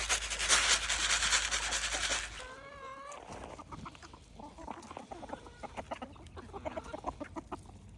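Native Arabic chickens cluck and murmur close by during a rural feeding, preceded by a loud rustling pour of feed and a short squeak.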